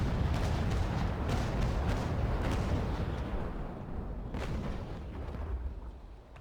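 A Trincomalee frigate's ship cannons fire a rolling broadside in Naval Action, with rapid successive booming shots rumbling one after another, loud at first and tapering off toward the end.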